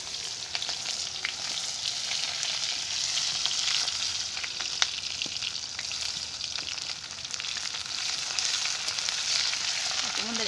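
Cumin seeds, cardamom and cinnamon, along with dried chillies, sizzle in hot oil in a pan, giving an even, close crackling hiss that continues without a break.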